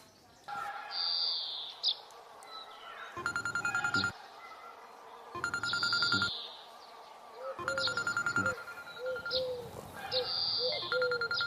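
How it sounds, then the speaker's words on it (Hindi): A telephone rings in repeated electronic bursts, three separate rings with pauses between, over a background of chirping birds. "बहुत दिन बाद फोन आया भाई"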